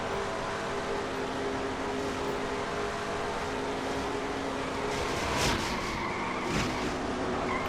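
An onboard view of a stock car racing pickup truck at the Auto Club 200 carries a steady, roaring engine and road noise. A few sharp scraping, skidding bursts from the crash cut through the roar near the end.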